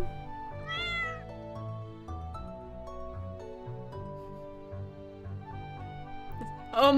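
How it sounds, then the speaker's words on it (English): A cat in the Stardew Valley video game meows once, short and clear over gentle background game music, and a second meow follows at the very end. "Oh my god, we adopted the Stardew cat."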